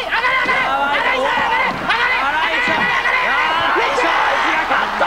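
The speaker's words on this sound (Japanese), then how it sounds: "でもこの大歓声" A dense, loud crowd cheers continuously at an FMW wrestling match, roaring and whooping throughout, with excited commentary audible over the din.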